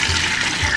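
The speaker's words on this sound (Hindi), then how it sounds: "अब हम इसमें पानी डालेंगे, मैं इसमें 4 गिलास पानी के डालूंगी" Water splashes steadily into a cooking pot of browned goat trotters for paya, a short, close, continuous pour.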